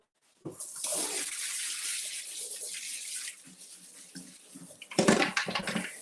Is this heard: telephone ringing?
no